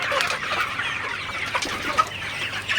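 Fifty-six-day-old Sonali chickens cluck and chatter continuously on a poultry farm, with a dense, close flock sound and no voices.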